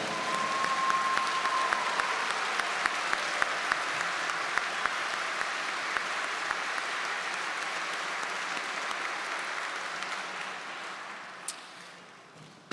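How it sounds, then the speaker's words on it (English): Sustained, dense applause from a graduation ceremony audience in a concert hall, honoring the high school band's musicians, steady and loud for over ten seconds before tapering off near the end. "Let's give them a round of applause."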